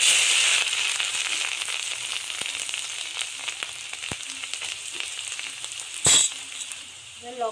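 Whole cloves, cardamom and cinnamon sizzle steadily in hot oil for a vegetable soup, a close continuous hiss with scattered pops and one sharp clatter near the end.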